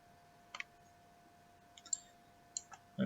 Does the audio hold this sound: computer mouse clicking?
yes